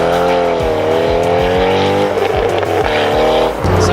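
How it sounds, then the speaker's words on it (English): A 2008 Chevrolet Corvette Z06 revs hard up close, its loud engine note rising and falling with repeated gear-change dips and a brief tire squeal amid the continuous roar. "Introducing one of my personal dream cars, the 2008 Chevrolet Corvette Z06."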